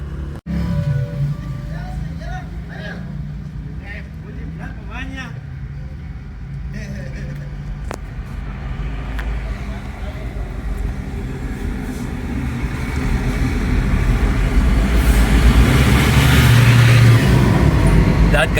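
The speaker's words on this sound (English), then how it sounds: "That, guys, is the bus that goes into the city of Merida every 30 minutes." A bus drives past on a road near Merida in Yucatan, its engine rumble building steadily louder toward the end as it approaches, with people talking over the traffic noise.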